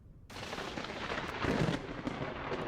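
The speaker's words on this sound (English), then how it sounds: "Thunderstorm rolling in." A thunderstorm rolls in within the game Vintage Story: a sudden broad rumbling crash swells and sustains, loud and continuous, with no talk over it.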